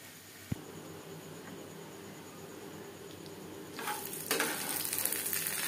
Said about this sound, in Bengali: আমি শ্যালো ফ্রাই করছি, আপনারা চাইলে ডিপ ফ্রাইও করতে পারেন।